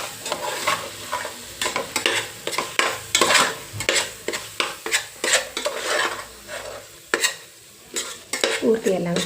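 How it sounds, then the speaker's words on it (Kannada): A spoon scrapes and stirs an avarekai rice mixture with coriander in a pan, giving a close, repeated series of short strokes against the metal with a faint sizzle underneath. "ಇಷ್ಟು ಹಾಕಿದ್ಮೇಲೆ ಒಂದು ಸತಿ ಮಿಕ್ಸ್ ಮಾಡ್ಕೊತಾ ಇದ್ದೀನಿ."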